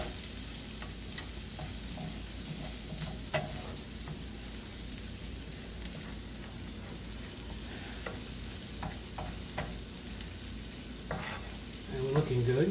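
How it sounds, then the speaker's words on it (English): Chorizo and paprika sizzle steadily in a single pan, a constant close frying hiss with intermittent scrapes and clinks of a utensil stirring. "I'm going to stir that around before you can smell that delicious smell, huh? And that paprika when it hits the heat."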